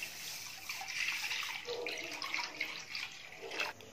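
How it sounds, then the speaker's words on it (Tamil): One litre of milk poured into a nonstick kadai, a soft close liquid stream and splashing that swells and wavers for several seconds, faint and without talk. "இப்போ பால் அல்வா பண்ணுறதுக்கு ஒரு நான்ஸ்டிக் கடாயில் 1 லிட்டர் பால் எடுத்துக்கோங்க"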